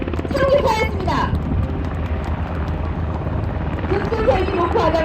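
A military helicopter hovers at a fast-rope descent demonstration during a combat manoeuvre show at a military culture expo, its steady loud rotor and engine roar filling the scene under a commentator's voice.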